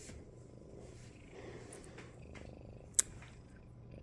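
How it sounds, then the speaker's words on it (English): A pet cat purrs softly while waiting beside its food dish indoors, a low, faint, steady rumble with one sharp little click near the end. "He's waiting by his dish here because it's time to feed the kitty"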